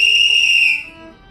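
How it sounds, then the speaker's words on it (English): A sustained, high whistled note, like a remembered assembly call, sounds clearly and loudly for most of a second before fading away. "I thought I heard a whistle, like Dad used to whistle assembly call."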